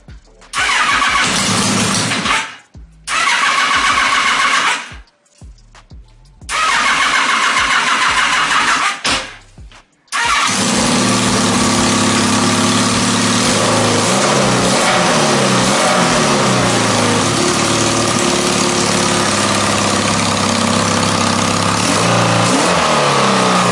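A ski boat engine cranks in several short bursts with pauses between, then catches and runs steadily, loud and close, idling somewhat unevenly with no talk over it.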